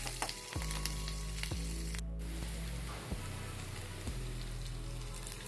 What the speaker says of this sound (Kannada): ನಂತರ ಕರಿಬೇವನ್ನು ಹಾಕಿಕೊಂಡು ಹುರಿದುಕೊಳ್ಳಿ.